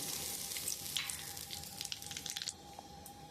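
Bay leaf and black cumin sizzle in hot oil in a home kitchen, a soft steady frying hiss dotted with small crackles that quiets after a couple of seconds.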